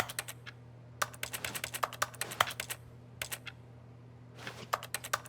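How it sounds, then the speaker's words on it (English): Left and right computer mouse buttons are clicked at a desk during PC gameplay. Quick, crisp clicks come in short bursts and irregular clusters, close and fairly quiet over a faint steady hum. "I'm clicking on my mouse, my left and right mouse buttons here."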